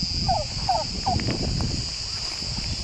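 Turkeys gobble at a shaded picnic area, three quick calls in a row at moderate distance over a steady outdoor hum and soft background chatter.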